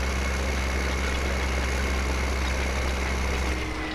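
Tractor engine idling in the video game Farming Simulator 2015, a constant low mechanical drone that stays loud and steady throughout with no voices.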